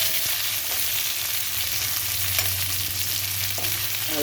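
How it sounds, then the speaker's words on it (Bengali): Potatoes fry steadily in a pan for a Bengali egg curry, a continuous close sizzle with faint scrapes, no talking. "আলুটাকে একটু ভেজে নিয়ে তারপরে আমি সর্ষে পোস্তটা দেবো।"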